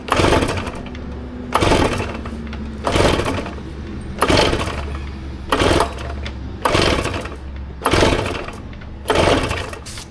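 A Stihl TS420 concrete saw, worn from repeatedly eating pistons, runs at half choke with a loud, ragged engine note that surges in about eight rhythmic bursts, falling back to a rough idle between them.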